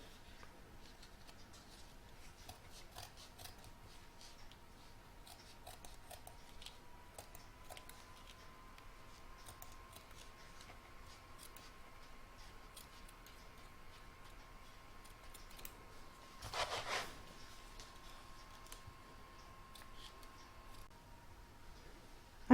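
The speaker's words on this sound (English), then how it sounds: "Next I'm going to trim up all the batting." Scissors trimming batting for an in-the-hoop oven mitt, a faint string of quiet snips and ticks at a close, soft level, with a brief louder rustle partway through.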